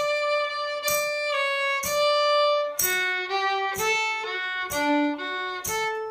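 A tune, Soldier's Joy, is played with a pickup lead-in, heard as clear sustained melodic notes struck in a steady rhythm, loud and close with no voices.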